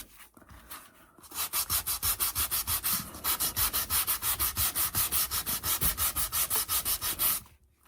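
Paint is wiped back on a wooden garden picket fence with a rough material in quick rhythmic back-and-forth rubbing strokes, about four per second, close and loud with a brief pause partway.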